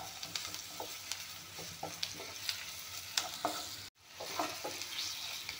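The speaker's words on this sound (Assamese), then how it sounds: "ধুনীয়াকৈ ৰং গুড়া দি পিঁয়াজখিনি ভাজি ল'লোঁ।" Onions fry with turmeric in a pan, a soft continuous sizzle with repeated clinks and scrapes of stirring, briefly cut near the end before the sizzle resumes, no talking.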